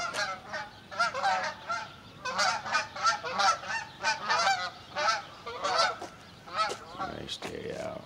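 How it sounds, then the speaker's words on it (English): A flock of geese honks repeatedly at close range outdoors in a desert setting, with overlapping calls forming a loud, continuous chorus. "Did you see them geese, Jim?"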